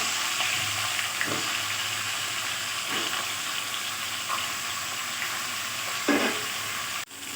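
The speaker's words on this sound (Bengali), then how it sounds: "এবার আমি তেলের মধ্যে দিয়ে দিচ্ছি" A catla fish head rubbed with salt and turmeric fries in hot oil, giving a continuous close sizzle and crackle with a few brief louder spits and stirring scrapes, and no talking.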